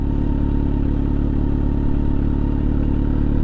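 A motorcycle engine idles steadily up close as the bike rolls along with the clutch released and no throttle, a constant even rumble with no speech.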